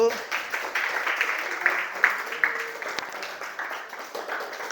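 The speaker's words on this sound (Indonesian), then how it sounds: "Kasih tepuk tangan dulu untuk kelompok 1." A school class claps for the first student group after its drawing presentation, a light scattered patter of hands in a classroom, fairly soft and steady throughout.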